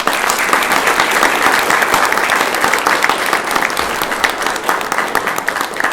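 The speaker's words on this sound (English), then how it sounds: "Let's give them all a round of applause" A graduation reception audience gives a full round of applause for newly named scholars, a loud, dense, continuous wash of clapping that holds steady throughout.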